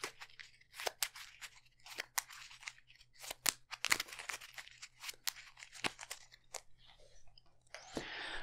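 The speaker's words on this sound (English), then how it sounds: "So let's make sure that's shuffled." A deck of game cards for a tabletop card game is shuffled by hand up close: a run of sharp crisp riffles and snaps in irregular bursts, ending in a longer rustle.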